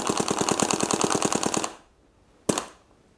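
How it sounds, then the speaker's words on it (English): Red Karnivor MQ2 paintball marker with an E2 1.10 board firing a rapid, evenly spaced burst of about sixteen sharp pops, close and loud, then after a pause a single hissing shot. "So it looks like we were shooting maximum 10 balls per second there."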